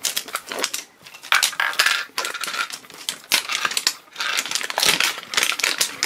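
Plastic wrapping on a Pokémon TCG tin being pulled and torn open, giving close, irregular crinkling and crackling bursts with brief pauses, heard alone for several seconds.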